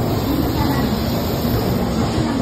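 A Shinkansen high-speed train carries passengers from Kyoto toward Tokyo, giving a steady, loud interior rumble of rolling wheels and rushing air that holds evenly throughout with no break.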